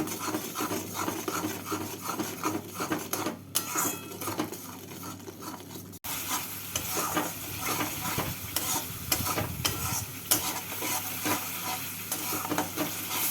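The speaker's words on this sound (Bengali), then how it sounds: "এবার মশলাটাকে কষিয়ে নেব" A spice paste mixed with whisked yogurt and a little sugar is stir-fried in a pan for a fish curry, giving a continuous soft sizzle with repeated rubbing, scraping strokes of a spatula; no voices.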